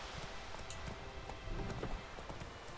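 Roach, the horse in The Witcher 3, trots with steady clip-clop hoofbeats that come close and moderately loud over a continuous game ambience, with no talking.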